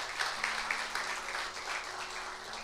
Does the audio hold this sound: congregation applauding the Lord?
yes